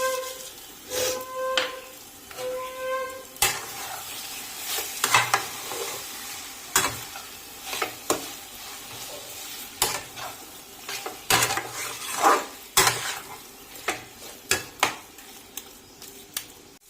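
Taro greens (kochu shak) being sautéed and stirred in a pan, with repeated close scrapes and clinks of a spatula against the metal over a continuous frying sizzle and no voices.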